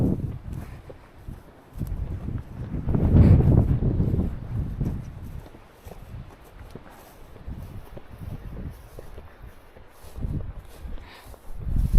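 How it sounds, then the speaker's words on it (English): Strong wind outdoors near a forest, surging in rumbling gusts against the microphone that rise and fade over several seconds, with footsteps and rustling mixed in. "because it's really windy"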